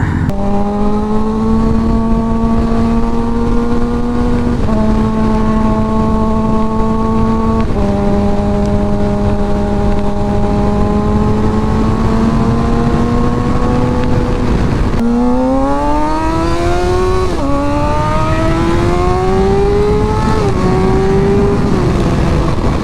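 Kawasaki ZX6-R and Suzuki GSXR 600 sport motorcycles ride through traffic with a loud, sustained engine drone, holding steady revs before a series of rising throttle pulls and shifts near the end, under constant wind noise.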